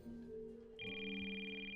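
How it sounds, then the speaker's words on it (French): A cartoon telephone rings in a steady, bright electronic trill that starts partway through and continues loud to the end, over a low musical background with no talking. "Oh, désolé, c'est mon téléphone."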